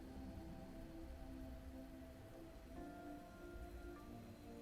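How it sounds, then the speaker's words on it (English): Steady soft rainfall patters down in the Fantasian Neo Dimension video game, a continuous even wash of drops with a faint tonal ambience humming beneath, no voices present. "At some point, the rain began to fall once more."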